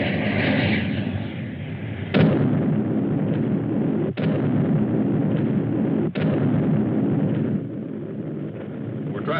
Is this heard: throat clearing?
no